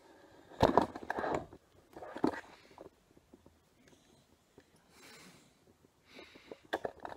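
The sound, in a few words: heavy breathing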